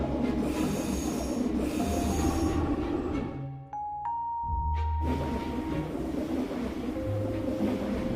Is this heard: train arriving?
yes